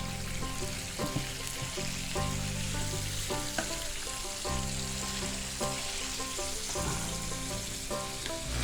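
Onions and chilies frying in a pan with a steady, continuous sizzle, joined by intermittent stirring and scraping sounds, close and fairly quiet, with no talking.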